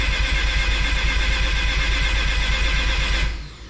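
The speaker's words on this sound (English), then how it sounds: "I'm going to crank until there's oil pressure" A drift car engine cranking on the starter to build oil pressure, a loud, close, rapid rhythmic churning that runs steadily for about three seconds, then cuts off and winds down.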